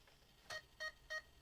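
An RC crawler's receiver gives three short, evenly spaced electronic beeps as its radio is switched on, faint against a quiet background.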